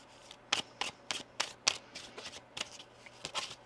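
Tarot cards being shuffled by hand during a reading, a string of crisp riffling bursts at an irregular pace, close and clear with no talk.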